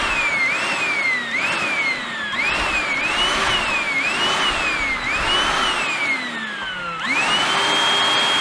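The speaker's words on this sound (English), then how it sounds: "I'm going to get the my little Milwaukee vacuum cleaner that I've previously repaired, and just use that to get rid of this." A small Milwaukee cordless vacuum cleaner runs loud and close with a whining motor whose pitch rises and dips repeatedly as it sucks, then settles into a steady high drone.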